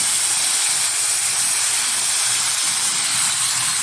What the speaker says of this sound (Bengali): এখন দিয়ে দেবো ধুয়ে রাখা চিকেন।